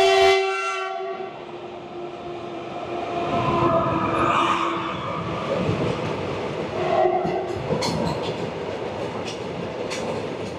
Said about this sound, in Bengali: মুরু অঞ্চলের ট্রেন তো একদম হর্ন বাজিয়ে ধুলো ফুলো উড়িয়ে চলে আসছে